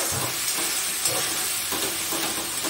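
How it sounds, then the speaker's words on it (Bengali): Spice paste for Bengali mutton kosha fries and gets stirred in oil released from the masala, a steady close sizzle and hiss with a few soft stirring scrapes, no voices. "মশলা হয়ে গেছে কষা, আর একটু ভালো করে কষবো আমি"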